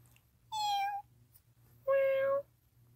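Two separate cat meows at a cat adoption center, each about half a second long and clearly pitched, coming close together over a quiet background with a low hum.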